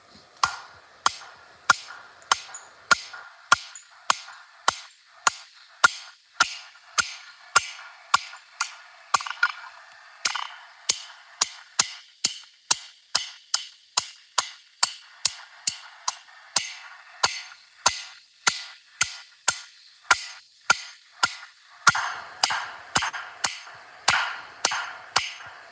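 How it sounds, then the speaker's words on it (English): A blacksmith draws a taper on hot steel by hand, with steady, ringing hammer blows close by that fall in a fast, regular rhythm with brief pauses between bursts. "So we're just drawing a taper for now."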